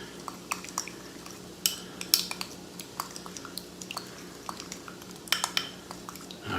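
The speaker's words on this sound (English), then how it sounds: "We're going to put all of that into this bowl also. This is our little spice mixture. This is going to be nice. And then we're just going to kind of mix it up." Spoon mixing a cumin and coriander spice mixture in a bowl, with scattered light clinks and scrapes against the bowl, close and fairly quiet, with no talking.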